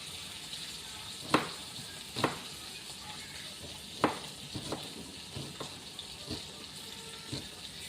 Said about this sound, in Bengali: আর তার জন্য আমি ফোড়নে দিলাম তেজপাতা